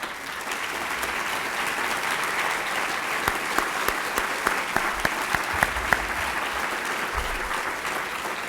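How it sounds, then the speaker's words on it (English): Sustained applause from a large audience for committee members and presenters at a student union unity event, a steady dense wash of many hands with a few louder individual claps standing out, no talk over it. "so we can give you a round of applause"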